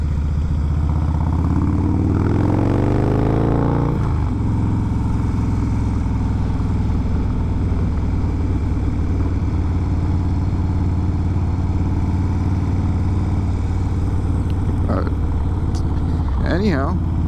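Harley-Davidson Breakout ProStreet motorcycle from 2017 on a ride, its engine steady and loud throughout with a rising rev sweep early on and brief revving near the end, with a rider talking over it.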